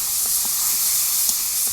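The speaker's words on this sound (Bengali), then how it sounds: "হালকা একটু নেড়ে ছেড়ে শুকনো জালটা আমি ভাজা ভাজা করে নেব।" Dry red chilli paste frying in hot oil, a steady broadband hiss and sizzle with faint soft clicks, continuous and close.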